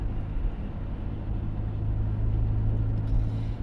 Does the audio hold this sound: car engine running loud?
yes